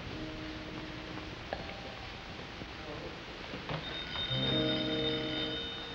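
An old-fashioned telephone bell rings in a quiet room in a classic comedy film, with a faint ring early on and then a louder, sustained ringing toward the end over a soft background hiss.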